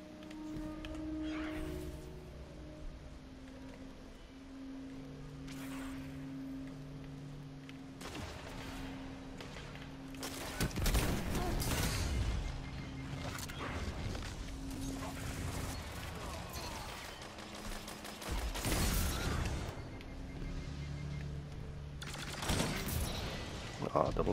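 Sniper rifle shots in Destiny 2 crack out as several loud, separate blasts spread over a long stretch of game noise, with a player talking between them.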